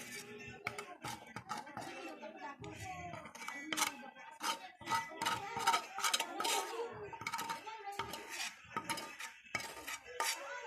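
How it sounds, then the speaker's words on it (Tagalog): Utensils clinking and scraping against a large container while ingredients are stirred for cooking, irregular metallic taps and rattles close up, with brief quiet gaps between bursts. "Tapos isasali natin siya sa isang malaking lagayan upang din natin siya haluin."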